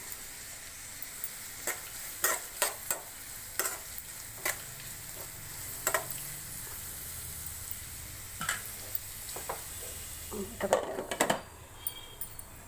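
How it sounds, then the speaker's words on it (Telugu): Onions sizzle steadily in a pan, with a spatula tapping and scraping at irregular intervals and a brief flurry of clatter near the end. "ఈ ఆనియన్స్ కాస్త మగ్గాలండి"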